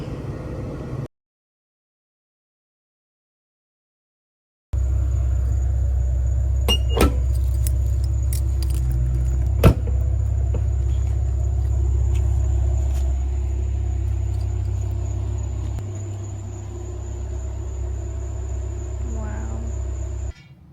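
A manual Toyota Tacoma pickup drives along with a steady low engine rumble and road noise, broken by a few sharp clicks and knocks, after a brief silent gap at the start.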